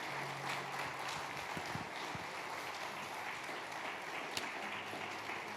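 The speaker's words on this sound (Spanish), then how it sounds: "Denle un fuerte aplauso a nuestro Dios." A church congregation applauds during a Spanish-language sermon, a faint, diffuse wash of clapping that sounds distant and steady, with a few brief thumps mixed in.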